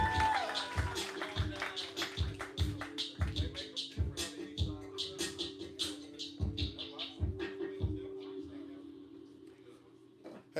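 An audience at a live spoken-word poetry event claps in a steady, rhythmic beat while a voice chants over it. The clapping eases off toward the end.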